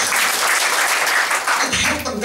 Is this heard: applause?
yes